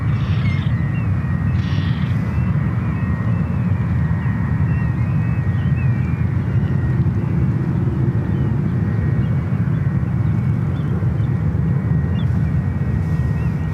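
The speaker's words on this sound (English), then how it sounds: "This is TAP Air Portugal A330 Neo heading to 28 right." A TAP Air Portugal Airbus A330neo jet at San Francisco airport heading toward runway 28 right, a steady broad engine roar heard from a distance, continuous and even throughout with no talk.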